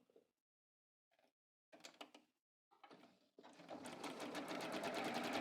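A sewing machine zigzag stitches over the edge of a pant seam, starting and stopping in short mechanical bursts before settling into a sustained, rapid rattling run, close and clear.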